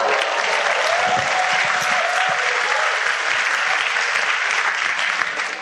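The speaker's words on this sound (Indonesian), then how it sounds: "aplaus dulu" Loud, sustained applause from a seminar audience fills the room, steady and dense throughout with no pauses, a large crowd clapping together at a business training event.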